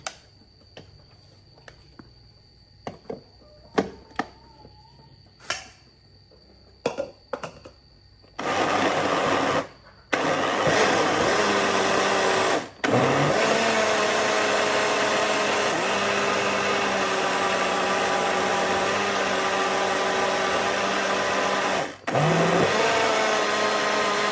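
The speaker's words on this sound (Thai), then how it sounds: "ปั่นเลยนะทุกคน" An electric blender whirs through a fish bait mixture, preceded by scattered clicks and knocks, then runs as a loud, steady motor drone in long bursts with two brief stops, close by.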